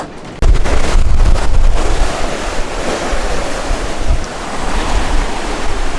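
Rough sea on an ocean passage aboard a catamaran, with loud continuous rushing surf and strong wind buffeting the microphone throughout, with no talking.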